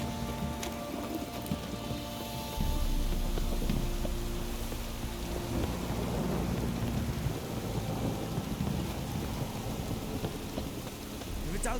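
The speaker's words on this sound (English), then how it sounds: "This downpour's a bastard" Heavy downpour with rumbling thunder in The Witcher 3, a dense continuous hiss of rain that swells after a few seconds and holds steady, with low thunder rolling underneath.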